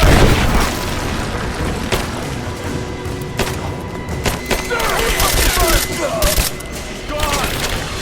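A loud firefight in Rise of the Tomb Raider, with repeated sharp gunshots and heavy booms cracking over a dense rumbling backdrop, while shouting voices call out amid the shooting.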